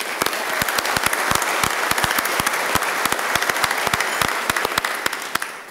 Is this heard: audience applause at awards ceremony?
yes